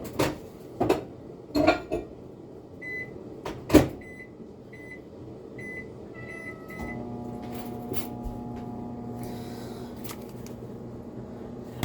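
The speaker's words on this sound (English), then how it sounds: "So we're just going to cut a piece off and microwave it." A microwave oven heats a piece of bread cheese: a few clunks and knocks from the door, a run of short keypad beeps, then a steady low hum as the oven runs, close by with no talking.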